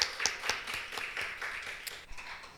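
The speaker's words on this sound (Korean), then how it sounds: "우리 박수 한번 하죠." Clapping from a church congregation during a worship service, a scattered run of individual claps at moderate distance that thins out and fades over a couple of seconds.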